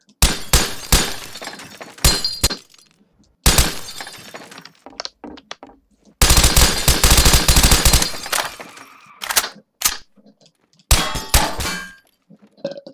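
Gunfire from a shooting video game comes in loud bursts of rapid shots and clanging, shattering impacts, separated by short silent gaps.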